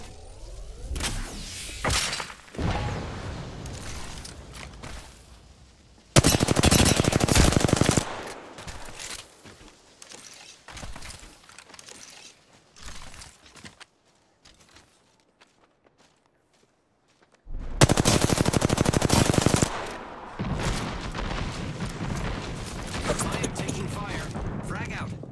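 Bursts of automatic gunfire in the battle-royale shooter Apex Legends, with two loud sustained volleys separated by quieter stretches of footsteps and movement, and a player speaking briefly in between.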